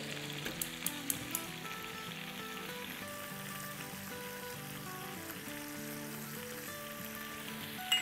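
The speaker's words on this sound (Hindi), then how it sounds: "मसाले को जब तक भूनेंगे जब तक इसमें से हल्का सा तेल रिलीज ना हो जाए।" Masala and tandoori kababs frying in a pan, a steady close sizzle running throughout with a few sharper crackles and spatters near the start and end, no voices.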